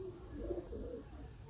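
A Sialkoti pigeon with pearl markings coos softly in a short, low, murmuring call, faint against quiet background noise.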